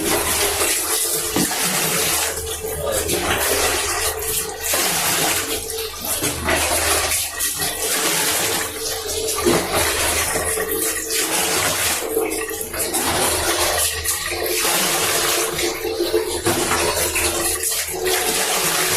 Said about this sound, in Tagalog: Bubuhusan natin yung tubig.